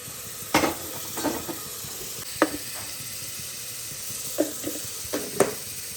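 Beef frying in a pan for breakfast, with short sizzling bursts and scraping stirs coming in uneven pulses over a low steady hiss, close up and with no talk.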